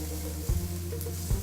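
Shallots and garlic sauté on low heat in a pan with a constant gentle sizzle over a low hum, broken by two short dull knocks of stirring.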